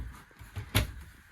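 A drawer slides open inside a 2019 Falcon 21RB camper: one short, close wooden knock and rattle over quiet room tone.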